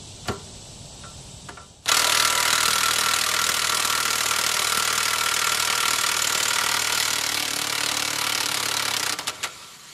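A 1/2-inch impact wrench fitted with an adapter and a 3/4 drive 12-point socket removes the pinion nut on a Dana 60 axle, a loud continuous hammering rattle close up for about eight seconds, with small clicks before and after.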